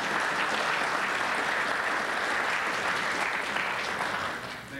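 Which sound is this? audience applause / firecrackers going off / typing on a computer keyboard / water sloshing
audience applause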